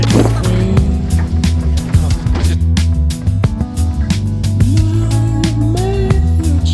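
Powerboat engine rumbling steadily at close range as a race boat comes in at the Solent 80 powerboat race, a low continuous drone with voices talking over it.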